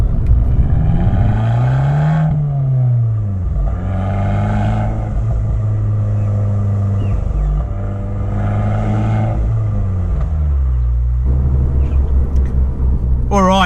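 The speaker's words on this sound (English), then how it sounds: "the Italians do a real amazing job when it comes to their record Monza exhaust system" Abarth 595 Competizione with a Record Monza exhaust, its engine rumbling and revving in repeated rising and falling swells, loud and close, followed by a deeper idle drone near the end.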